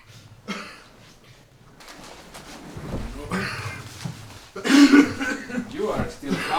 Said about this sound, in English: You are still coughing.